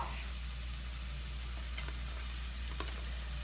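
Two large garlic cloves fry in a pan for pasta sauce, giving a steady, even sizzle close up, with faint stirring scrapes near the end and no talking.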